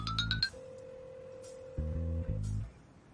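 A phone ringtone plays a steady repeating tone after a call is returned, with a short electronic chime at the start and low rhythmic ringing bursts, fairly faint with no talk.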